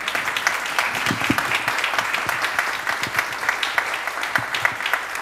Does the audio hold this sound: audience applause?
yes